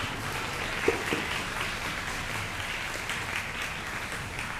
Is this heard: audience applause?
yes